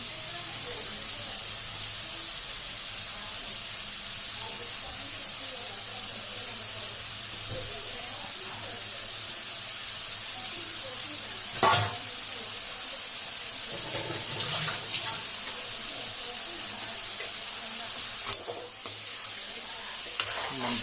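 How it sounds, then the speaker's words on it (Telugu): Chicken keema and bones fry in a pan over medium flame, a steady close hiss of sizzling with occasional stirring scrapes and a couple of sharper clinks. "కీమా కూడా బాగా ఫ్రై అవ్వాలి మీడియం ఫ్లేమ్ మీద బాగా ఫ్రై చేసుకోవాలి"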